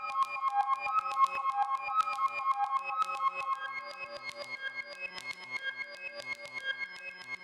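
Synth lead sample from a Pluto bank played dry without effects in FL Studio, a bright, thin tone of short plucked notes in a repeating pattern with varying velocity, alone and fairly quiet.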